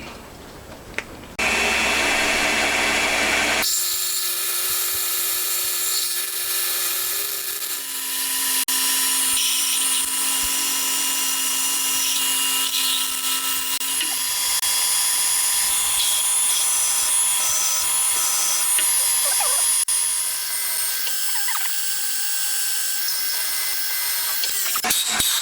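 A power drill whines steadily drilling 4.2 mm bolt holes into a metal crankcase for a 125cc four-cylinder engine, its pitch shifting as it bites, with a brief different tool sound at the start; no talking.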